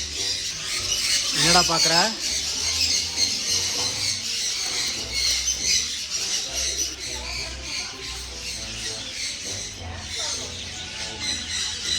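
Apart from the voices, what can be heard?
pet birds squawking while being fed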